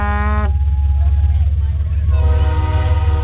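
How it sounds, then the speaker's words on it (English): Train horn blasting in two loud, close bursts, the first cutting off early, then a pause filled by low rumbling before a second sustained blast returns. "That's the loudest fucking horn I've ever heard"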